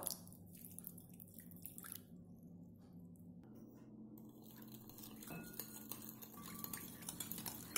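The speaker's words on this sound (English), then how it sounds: "mix till the yeast dissolves completely" Dry active yeast, sugar and lukewarm water stirred together in a mixing bowl, with soft wet swishing and light clinks of utensil against the bowl, steady and close, with no talking.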